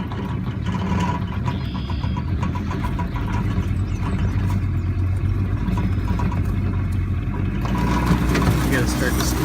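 Outboard-style boat engine pushing a floating bog across water, a steady mid-pitched motor drone that holds loud and continuous, building slightly toward the end as it is put in gear and throttled up.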